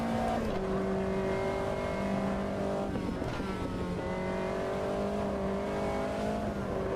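A race car engine in the Automobilista 2 sim racing game drones loudly and steadily through a hot lap, its pitch dipping and climbing as the gears shift, with no voice over it.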